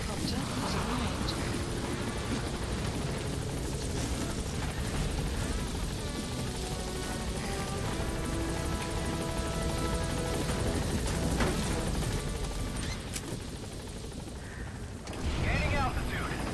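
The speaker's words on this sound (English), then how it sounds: "Support helicopter has arrived." Support helicopter in Metal Gear Solid V: The Phantom Pain, a steady, loud rotor drone filling the scene under game voice and music, with a brief thump near the end.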